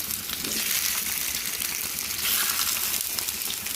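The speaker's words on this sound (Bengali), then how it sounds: "টমেটোগুলো আমি মাঝখান থেকে এক ফালা করে নিচ্ছি তো এগুলো আমি সরিষার তেলে একটা একটা করে সব দিয়ে দিব" Halved tomatoes sizzle steadily in hot mustard oil, a dense, even frying crackle with a few faint pops, close and continuous with no talking.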